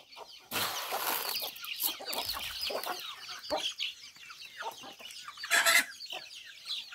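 Hens and small chicks cluck busily while eating corn scattered across a small farm yard early in the morning, a steady mix of close, overlapping clucks and squawks with no talking.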